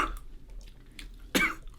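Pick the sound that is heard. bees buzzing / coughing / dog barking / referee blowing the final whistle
coughing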